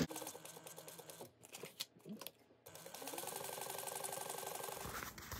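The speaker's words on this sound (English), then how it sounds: "we're gonna sew around this at a quarter inch seam allowance" Sewing machine stitching fabric at a quarter-inch seam allowance, with a short stop-start stretch of clicks and handling noises before a steady rapid mechanical chatter takes over for the last couple of seconds, close and moderately quiet.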